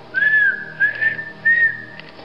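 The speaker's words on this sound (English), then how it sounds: "He whistles a tune to the window." A single person whistles a short tune in three clear phrases, close and clean with no talking.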